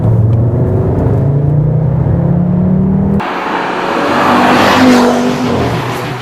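An Audi RS3 engine revs hard and close, its note climbing steadily in pitch, then dropping sharply at a gear change before rising again into a loud, raspy roar.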